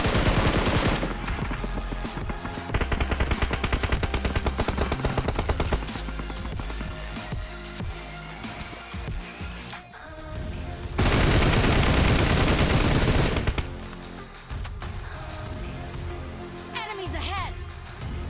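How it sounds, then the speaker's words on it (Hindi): Automatic gunfire rattles through a squad battle in the mobile game PUBG Mobile, loud and close in sustained bursts with short pauses, while someone narrates over the fight and in-game voice callouts sound. "अब यहीं से हमारे ऊपर फायर होने लगा"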